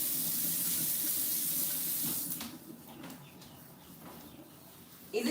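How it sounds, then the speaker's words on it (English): Water runs steadily from a tap during hair washing indoors, a loud continuous splashing rush that drops to a softer, uneven trickle halfway through, with a sharp sound near the end. "when you wash your hair on camera or you wash somebody's hair on camera, that the sound from the water is kind of annoying"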